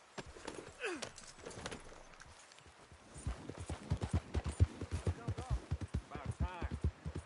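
Horse hooves in Red Dead Redemption 2 speed into a rapid, even clip-clop gallop, loud and close, with a rider's voice and other game talk heard over it.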